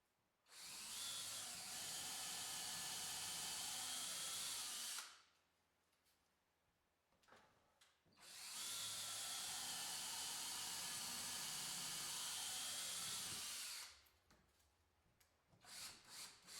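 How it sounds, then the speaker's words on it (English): A power drill bores into a 2x4 stud held against a garage wall, running in two long, sustained whirring bursts with a short pause between and quieter handling noise afterward. "I drill the top hole of the first 2x4 into the wall."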